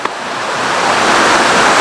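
A mountain river where two streams join into one, a steady, loud broadband rush of water filling the scene close by with no voices.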